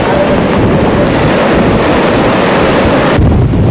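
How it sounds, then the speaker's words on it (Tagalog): Loud, continuous roar of strong waves pounding the beach shore, with heavy wind buffeting the microphone throughout. "malakas na hampas ng alon sa dalampasigan"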